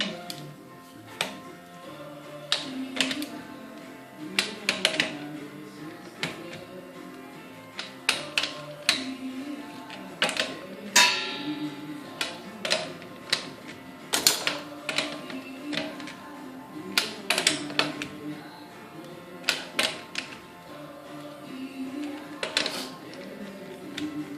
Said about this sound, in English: So I got my torque wrench set at 90 pounds